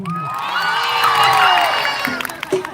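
A large live audience hoots and cheers together in a long, loud, sustained whooping roar that gradually fades out, followed by a few scattered shouts.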